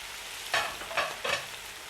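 Onion, leek and carrot fry in a pan, giving a soft steady sizzle. Three brief louder scrapes of stirring break through it.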